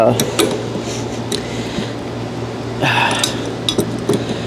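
A wrench tightens a plastic-threaded AC sensor on a 1987 S10 pickup, giving short creaking, ratcheting mechanical bursts up close, with a voice speaking at times.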